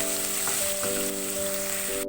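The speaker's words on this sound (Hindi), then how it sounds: "लहसुन अदरक को ऑयल में 1 मिनट तक के लिए अच्छी तरह भूनेंगे।" Garlic ginger paste frying in hot oil in a karahi, giving a steady, dense sizzling hiss throughout with a faint, continuous tonal hum in the background.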